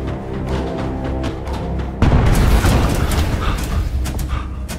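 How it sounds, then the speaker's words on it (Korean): Hot slag bursts in a rain-flooded steel mill pit in a film scene: an earlier rumble gives way to a sudden loud blast two seconds in, followed by a sustained roaring, crackling wash of noise. "재련하고 남은 뜨거운 슬래그들이 빗물에 잠기면서 곳곳에서 터지기 시작했습니다"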